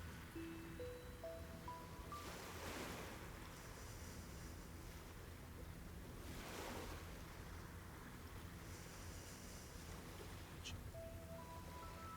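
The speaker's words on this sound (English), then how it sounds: "So we're on the Pacific Ocean today, the Straits of Juan de Fuca." Waves wash in on the Pacific Ocean at the Strait of Juan de Fuca, a steady soft surf with two broader swells rising and falling, mixed with wind noise and faint outdoor background.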